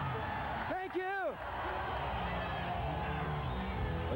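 A large crowd roaring at an off-road racing event in the LA Coliseum in 1986, a sustained distant wash of cheering and a few whoops under a loud voice.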